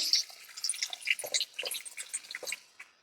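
Water poured onto soya chunks masala frying in hot oil sets off a quick burst of crackling, sputtering sizzle, close and fairly quiet, with sharp pops that thin out over three seconds.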